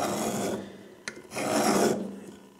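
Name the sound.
caliper jaw dragged across metal to scribe a line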